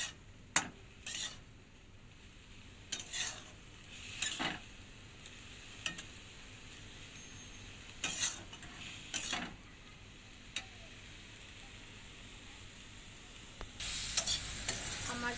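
Chicken cooking down in a pan until its liquid reduces away, with a faint sizzle under scattered spatula scrapes and knocks against the pan.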